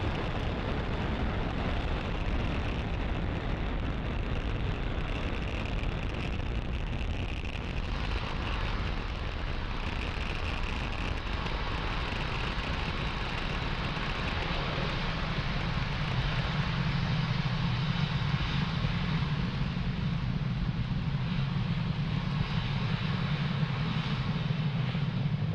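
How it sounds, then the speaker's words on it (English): SpaceX Falcon 9 rocket carrying Starlink satellites and a Sherpa-LTC 2 vehicle climbing after liftoff, a continuous loud crackling roar that stays broad and steady throughout, with a deeper rumble building toward the end. "You are watching Falcon 9 accelerate Spaceflight's Sherpa-LTC 2 and our Starlink satellites out into space."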